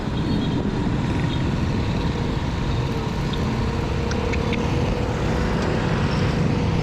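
A motorcycle engine drones steadily while riding, with wind rushing past and a low continuous rumble throughout, no talking.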